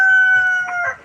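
A pet rooster named Masang gives a short, close, loud call with a steady tone and then a rough break at the end.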